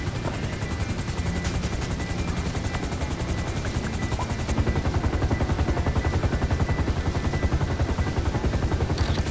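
Helicopter in GTA V with a steady, loud rotor chop that thumps continuously throughout and intensifies slightly midway, with no talk over it.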